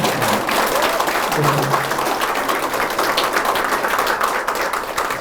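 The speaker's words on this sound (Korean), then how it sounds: "박수 한번 치죠" An audience in a large meeting room breaks into sustained applause, dense and even clapping that carries on steadily with some voices underneath.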